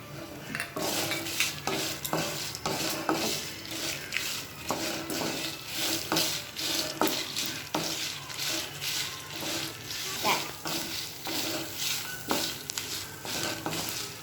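Dry red chillies, cumin and coriander seeds frying in a pan for peanut chutney powder, stirred continuously with rapid metallic scrapes and taps over a steady crackling sizzle, close and fairly loud throughout.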